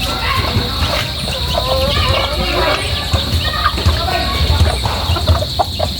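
Pet chickens cluck and call around a backyard feeding spot, several birds near and overlapping in a busy, irregular chatter under a steady hiss.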